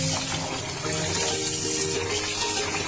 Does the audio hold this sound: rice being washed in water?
yes